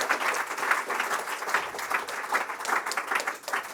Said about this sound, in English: I think you can applaud them.